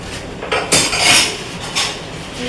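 Dishes, pots and utensils are washed by hand, giving close clattering metal knocks and clinks. A few louder bangs stand out over a steady background wash.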